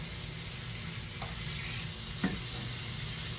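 Steaks sizzling in a pan on lowered heat, a steady crackling hiss throughout with a faint brief clink or scrape of utensils near the middle, and no talk.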